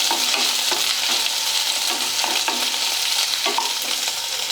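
Sliced onions fry in hot oil with crackling mustard seeds and cumin, a dense close sizzle with scattered pops and light stirring scrapes throughout.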